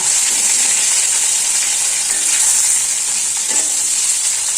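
Brinjal pieces frying in oil for kuzhambu give a loud, dense, continuous sizzle close up, with faint scraping of stirring partway through and no voices.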